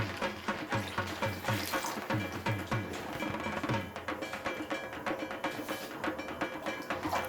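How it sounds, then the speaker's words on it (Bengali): Water poured from a vessel into a pan of milk powder for milk cake, a steady close splashing stream lasting throughout with faint clinks, no talk. "তো আমি জলটা দিয়ে দিচ্ছি।"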